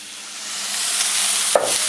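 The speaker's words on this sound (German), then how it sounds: "Wie ihr hier seht, habe ich das Fleisch schön gold angebraten." Meat sizzles steadily in neutral oil in a pan, a bright continuous frying hiss that swells slightly, with a couple of brief stirring knocks near the end and no talking.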